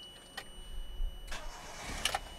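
A Toyota Tercel engine cranks and catches, with a brief whir followed by a rumbling start and a short burst of higher mechanical noise near the end.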